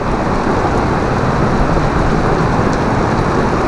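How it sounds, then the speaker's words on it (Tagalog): Heavy rain pours steadily in a tropical afternoon downpour, a loud, dense, continuous hiss with no break across the whole stretch and no voices. "kahit malakas yung ulan hindi kayo binabaha"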